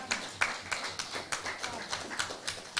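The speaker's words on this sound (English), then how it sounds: "that is not a clap for a man who has worked hard in the sector" Light, sparse clapping from an award ceremony audience celebrating ten years of mining-sector advocacy in Kenya, with a handful of people striking their hands in an uneven, thin rhythm at moderate distance.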